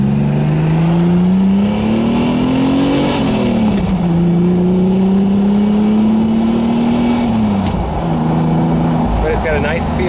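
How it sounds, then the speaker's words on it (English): A Ferrari Testarossa replica convertible with a custom conversion rumbles steadily from the cabin while driving, its low engine drone rising and falling with throttle, loud and continuous throughout. "It's got a nice rumble to it."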